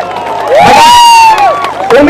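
A large crowd of thousands at a mass wedding in Aurangabad cheers and whoops loudly, with some clapping mixed into the continuous roar and a shrill whistle-like tone rising over it.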